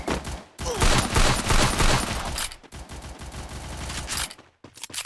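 Dense, loud bursts of rapid automatic gunfire in a battle royale video game, sustained volleys broken by a couple of brief pauses, close and dominant with no talk over it.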